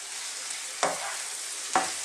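Sliced white button mushrooms frying in a pan under a steady soft sizzle, with two distinct spoon scrapes as they are stirred, close and fairly quiet, no voices.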